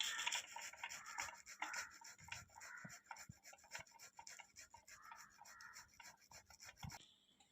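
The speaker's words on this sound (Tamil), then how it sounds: "இதை வந்து நம்ம துருவி எடுத்துக்கலாம்." Peeled raw banana is rubbed against a grater in quick, repeated rasping strokes, soft and close with no talking.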